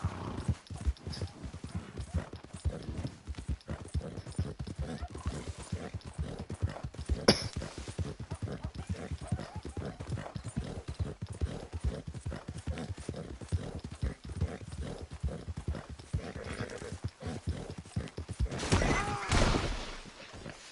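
Horse hooves in the video game Red Dead Redemption 2, a rapid, continuous clip-clop of a galloping horse heard up close, with a brief snort or whinny near the end.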